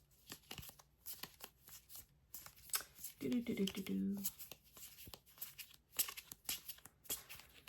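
Big board game cards for Tekhenu: Obelisk of the Sun being handled and shuffled, with soft papery rustles and slides in brief bursts close by, over a quiet room and light background talk.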